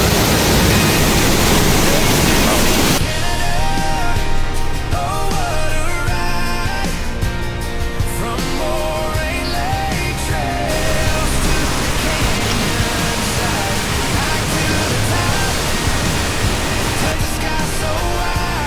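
A waterfall in Johnston Canyon, Banff, heard from a small tunnel almost directly in front of it, roars loudly and continuously, a dense hiss of falling water with a brief burst of music or tones layered in after the start.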